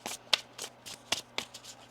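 A deck of tarot cards being shuffled by hand: soft riffling and sharp slaps in irregular bursts, close and quiet, with no talking.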